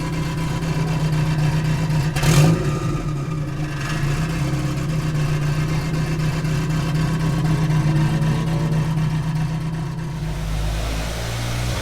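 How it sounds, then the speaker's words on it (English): An Audi TT 1.8T turbo engine runs on a dyno with a loud, steady drone and a brief throttle blip early on, the note holding then dropping at the end. "Audi TT on the dyno."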